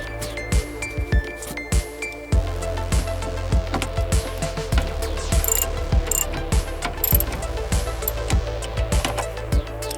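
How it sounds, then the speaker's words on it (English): Metal clicks of a bolt being fastened back onto a car ground wire ring terminal during audio system work on a JDM Honda Prelude, with ratchet-like repeated clicks in bursts under a steady low hum, close and moderately loud. "just going to put a ring terminal onto the ground wire and put the bolt back"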